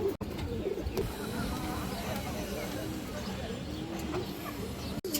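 Several pigeons coo in steady, overlapping rolling calls at a pigeon sale where a large orange chila male is on offer, the cooing continuous and fairly close over a low background murmur.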